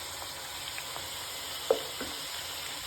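Onions frying in oil in a pan for Kerala-style meat biryani, a steady soft sizzle with a few faint clicks of stirring, quiet and close with no voices.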